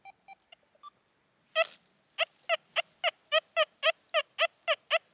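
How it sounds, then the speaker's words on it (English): XP Deus II metal detector sounding a few short beeps, then a steady run of about a dozen evenly spaced buzzy iron-tone pulses, clear and close in a quiet setting. "can you hear that iron tone, that buzz?"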